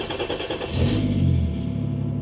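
A car engine with a lightened single-mass flywheel cranks and catches, then revs up in a rising, rough burst before settling into a lumpy idle, close and loud.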